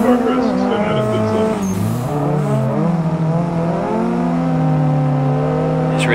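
A car drifting in the racing sim Assetto Corsa, its engine revving and wavering hard through a tandem drift session on a steering-wheel rig, a loud continuous drone with shifting pitch and brief tire squeal, with voices talking over it.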